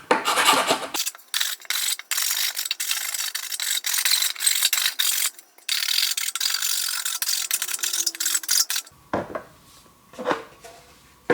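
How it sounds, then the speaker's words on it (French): A hand file rasps across the corners of a small cube in rapid, close strokes for about nine seconds, then stops, leaving a couple of faint knocks. "on commence par la lime et on lime les angles de notre cube qui doit rentrer dans le trou."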